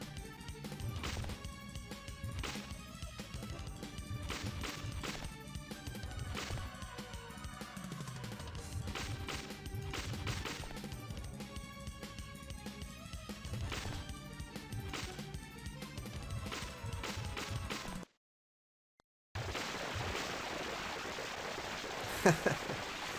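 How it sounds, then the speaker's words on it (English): In the Castlevania Chronicles video game, the Doppelganger boss bursts apart into shards of glass, with dense clattering, crashing debris over game music. A brief silence follows, then a hissing wash of noise. "I love how he explodes into shards of glass"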